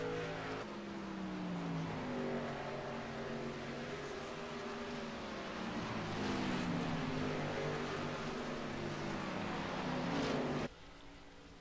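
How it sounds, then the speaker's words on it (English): A race truck in a truck series running on the oval's front straight with a steady engine drone and rising, falling pitch as it shifts gears, loud and continuous until cutting off abruptly near the end. "One truck coming down the front straight. You heard it shifting like it had some kind of issue or something."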